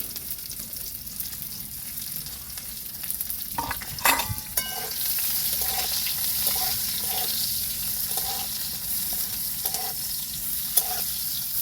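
Chopped onions frying on low heat for amra chutney, giving a steady soft sizzle with occasional stirring scrapes and small clinks throughout, no talking.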